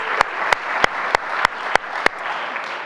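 An audience claps at a keynote lecture, a dense burst of applause with a few sharp, evenly spaced louder claps standing out, no talking over it.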